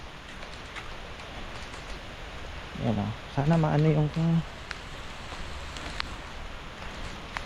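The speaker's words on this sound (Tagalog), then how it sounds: "may ulan" A steady hiss of heavy rain falls throughout over a vegetable garden, and a person talks briefly in Filipino partway through.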